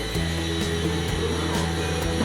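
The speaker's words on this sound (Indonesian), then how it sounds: "kipas anginnya kencang banget" A loud electric fan blows in a steady, unbroken drone with a low hum and faint rhythmic pulses, running alone at close range throughout.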